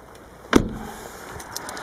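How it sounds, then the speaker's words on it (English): A 2004 BMW 730d door closes with its soft-close piston, a single firm thud followed by a faint mechanical whir and a few light clicks, heard up close and alone. "Look at the little piston to close the door"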